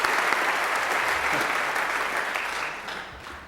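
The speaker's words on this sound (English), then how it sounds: "So I'd like to give them a big round of applause." A church congregation claps together during a Presbyterian Sunday service, a dense burst of applause that starts full and slowly tapers off over a few seconds.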